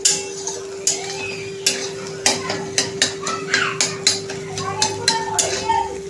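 Egg bhurji stir-fried in a kadhai, a spatula scraping and clattering against the metal in an irregular rhythm of sharp strokes over a faint steady sizzle and a constant electrical hum.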